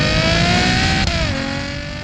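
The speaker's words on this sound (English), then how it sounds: "melodious exhaust notes at any and all speeds" A 2019 Ferrari GTC4Lusso with a 7-speed dual-clutch gearbox pulls hard, its loud, close exhaust note a steady tonal roar that dips briefly midway as if shifting, then carries on strongly, with no voices.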